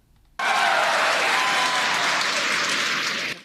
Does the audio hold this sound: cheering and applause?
yes